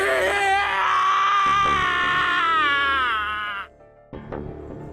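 A long, anguished scream from Snake, a character in the video game 999: Nine Hours, Nine Persons, Nine Doors, loud and strained for several seconds before cutting off, followed by a brief quieter vocal burst.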